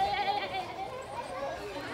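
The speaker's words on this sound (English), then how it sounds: "the goats, those are the ones you can pet, the goats" Goats bleating in a petting zoo at a city zoo, several tremulous calls close by over steady outdoor background noise, with people talking around them.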